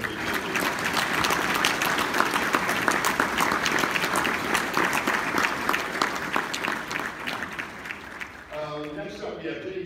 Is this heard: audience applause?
yes